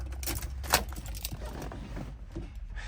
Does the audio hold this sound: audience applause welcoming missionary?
no